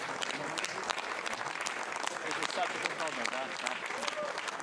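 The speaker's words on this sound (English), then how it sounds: "Lots of clapping." Staff in the launch control room for the first Ariane 6 launch clap steadily, a busy wash of hands heard under a commentator's voice and general crowd murmur.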